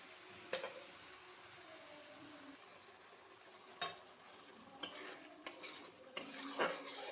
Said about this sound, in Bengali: দিয়ে এখন আবার একটু মাংসটা মশলাটা কষিয়ে নিচ্ছি